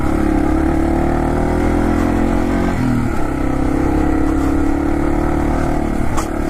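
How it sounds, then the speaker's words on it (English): Slow motorcycle engine revving hard and continuously up close, a loud droning whine that dips briefly and climbs again. "You have to rev this thing to get any power."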